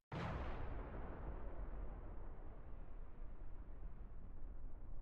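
A sudden loud blast tears through an airplane in a stormy sky over Peru, then a long roaring rumble and hiss keep going at the same level without fading.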